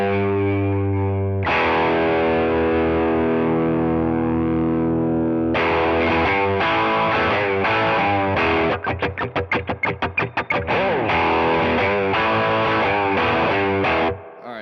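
A Les Paul electric guitar with raised gain through a Fender Tone Master Pro rings out in sustained, distorted chords, with a fast tremolo-like stutter in the middle, loud and close with no speech.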